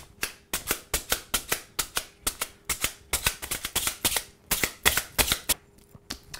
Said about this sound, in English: Now I'm going to take one of these meat tenderizers, and we're going to pierce the meat throughout